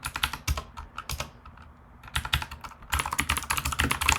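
Code is typed on a computer keyboard in rapid, irregular clicking keystrokes, close up and moderately loud, with a brief lull midway before a denser flurry of typing resumes, and no voices.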